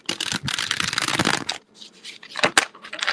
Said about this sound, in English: So I'm shuffling up your cards